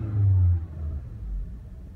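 A car fitted with a short ram intake accelerates, heard from inside as a low engine rumble that swells briefly and then settles into a steady hum.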